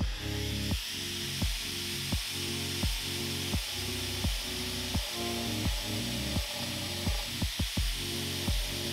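A power carving tool with a ball gouge cutting into a piece of wood, running as a continuous loud whine. Regular rhythmic bites and scrapes come about twice a second, close up.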